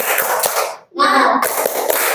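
A fifth-grade class of children clap a quick, steady rhythm in unison during a classroom chant, the claps loud and close with a brief pause in the middle before the clapping resumes.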